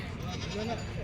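A single short, wavering bleat from a local breed goat rises briefly at a livestock market, overlapping with a voice nearby.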